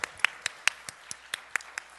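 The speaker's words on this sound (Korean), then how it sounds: "우리 다시 한번 더 감사와 영광의 박수 우리 올려드리겠습니다." A church congregation at an Easter worship service clapping together in a steady, even beat of about four or five sharp claps per second, fairly close, with no speech over it.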